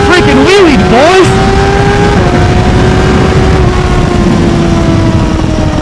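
Honda CBR600RR motorcycle engine pulling a wheelie, loud and close, with revving pitch sweeps at the start settling into a steady high drone, a voice shouting over it.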